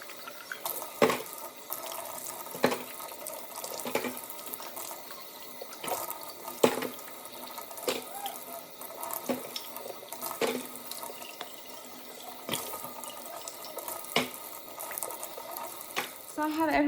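Tap water running into a sink as baby bottles are washed, a continuous hiss and splash with scattered clinks and knocks of plastic and dishes, close and moderately loud.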